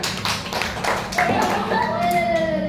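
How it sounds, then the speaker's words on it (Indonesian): Schoolchildren in a classroom clap for a group presentation, a short burst of scattered hand claps, then fading as children's voices and chatter come through nearby. "Oke, tepuk tangan buat kelompoknya Zainal"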